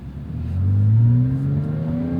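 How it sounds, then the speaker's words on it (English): The M97 Metzger flat-six of a Porsche Cayman S 987 revs up loudly and close, its pitch climbing smoothly and holding a strong, steady tone. "That's of course the M97 Metzger engine."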